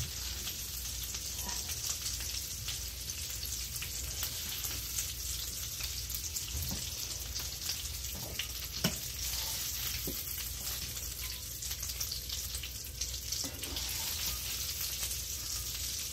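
Meatballs simmer and sizzle in sauce on a stovetop burner, giving a steady, close crackling hiss with occasional soft pops and light stirring knocks throughout.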